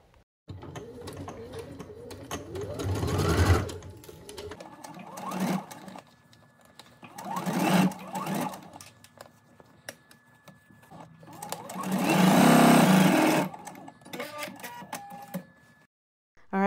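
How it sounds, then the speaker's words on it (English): A sewing machine stitches two fabric pattern pieces together for a garment, running in short bursts of whirring with pauses and handling clicks between them, with a longer, louder run near the end. "Now go ahead and stitch those together."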